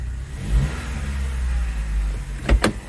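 A 2013 Chevy Sonic's engine idles with a low hum, then gives two quick revs near the end.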